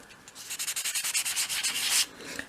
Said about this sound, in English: Use a 500 grade sandpaper to sand away any excess filler.